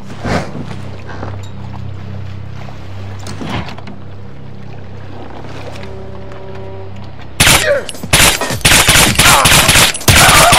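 Gunfire in The Bourne Conspiracy video game: after a quieter stretch of low ambient game sound, loud rapid bursts of shots and impacts erupt and fill the last three seconds.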